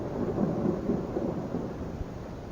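Distant thunder rolls as a low, continuous rumble with a hint of rain, faint and without voices.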